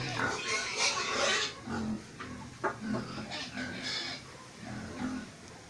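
Pigs grunting and snuffling in repeated bursts nearby, with some livestock commotion and a faint voice in the background.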